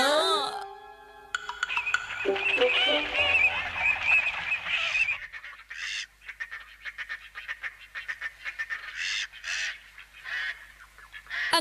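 Cartoon birds honk in a Ninja Hattori Tamil anime episode, a run of layered, nasal goose-like calls up front followed by scattered shorter honks and chatter, fairly loud and close.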